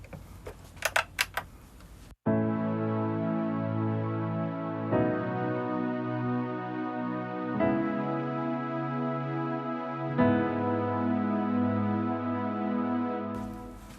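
A sustained synth pad plays the bridge part of the worship song Be Glorified, holding long chords that change every few seconds, alone and steady, after a brief burst of clicking at the start.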